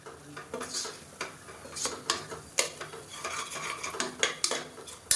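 A metal spoon scrapes and taps around a pan in quick irregular strokes while stirring spices for chicken masala gravy, close by, with a soft rasping stir between the clinks.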